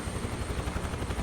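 Huey helicopter in flight in MS Flight Sim 2024, a steady loud rotor drone with a rapid rhythmic chop that holds even throughout.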